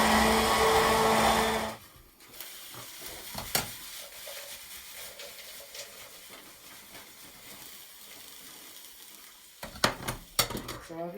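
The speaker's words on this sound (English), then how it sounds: "Let's liquidise these cashews." A blender whirs loudly for about two seconds, liquidising cashew nuts into a milky drink, then stops, leaving quiet kitchen clatter and a few sharp knocks.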